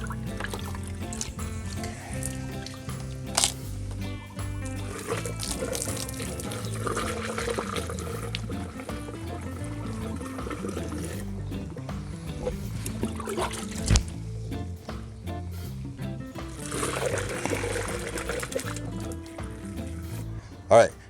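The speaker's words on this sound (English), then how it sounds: "make a sort of funnel so that you can pour your solution into the bamboo" Boric acid solution poured through a makeshift funnel into an upright bamboo pole, a steady gurgling trickle of liquid running for a long stretch at moderate volume with some low background noise.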